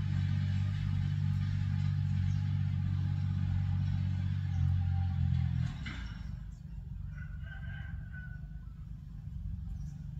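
A tractor engine runs steadily while cutting grass in a rubber plantation, a low constant drone that drops in pitch and level midway and then keeps going more quietly.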